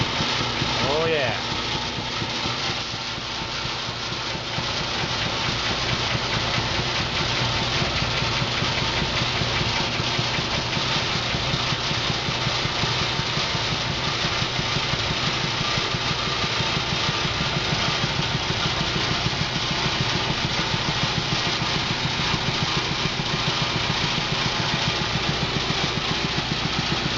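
A truck engine idles roughly after a cold start in freezing weather, a steady, loud, continuous rumble with vibration that holds throughout.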